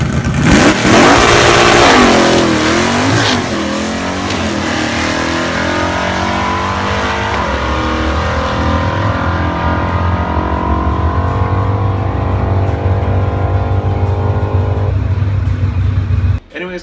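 A built Chevrolet 305 small-block V8 in a car revs hard, loud and close, climbing through sustained high-rpm pulls before cutting off abruptly near the end, with a voice briefly audible early on.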